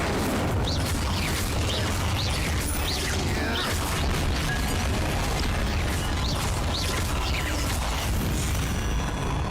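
An Incendio fire spell cast in Hogwarts Legacy gives a dense, continuous roar of crackling, rumbling magic with scattered pops and creaks, loud and steady throughout with no voices.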